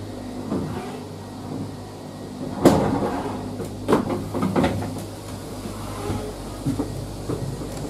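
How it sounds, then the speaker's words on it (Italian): Leitner gondola cabin doors slide open at the valley station of the Castelir–Le Fassane–La Morea lift, with a sharp mechanical clunk followed by several rattling knocks and a low steady machinery hum throughout. "Porte si aprono adesso."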